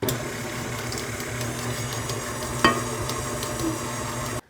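A stand mixer runs steadily, churning cupcake batter for banana split cupcakes after eggs are added one at a time, with a single sharp clack partway through and no talking.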